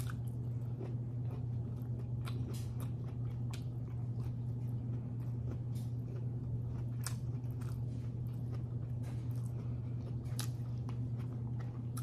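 Close, crunchy chewing of stir-fried beef with bitter melon and rice, steady moist bites and crunches repeating throughout over a constant low hum, with no talking.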